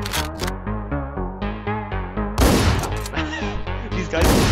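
Shotgun fire in the Hotline Miami 2 video game, in a dense run of loud, punchy blasts. The shots are layered over pulsing, rhythmic game music, with heavier bursts near the middle and at the end.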